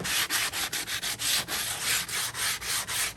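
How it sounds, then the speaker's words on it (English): A balled-up wad of aluminum foil scrubs quickly back and forth across a grill grate, a close, rapid rasping scrape in an even rhythm of short strokes with no talking. "I've got a ball of aluminum foil I'm going to use to clean it real fast"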